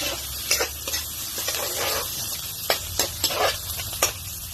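Garlic sautéing in a pan for a Filipino ginisang malunggay dish, a steady close sizzle broken by sharp scrapes and clinks of a utensil stirring against the pan, with no voices.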